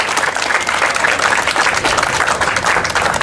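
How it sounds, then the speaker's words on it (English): A crowd applauding steadily at a fair opening ceremony, dense clapping that stays loud and even throughout without a break. "Give these people a round of applause,"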